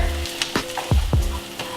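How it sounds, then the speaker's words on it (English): Food sizzles steadily in a hot pan, with a few sharp clinks and scrapes of a utensil stirring partway through. "Now we hear that nice little sizzle"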